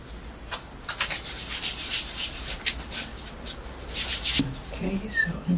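Rubbing strokes polishing a painted surface, a steady scratchy swish repeated in uneven bursts at close range, with no voices.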